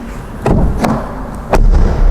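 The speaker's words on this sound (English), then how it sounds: "whenever I open the passenger side door, there's a metallic effect" A passenger-side door on a 2024 Audi A3 facelift slams shut with a close, solid metallic thud. Several distinct impacts land at roughly half-second to one-second intervals, and no one talks.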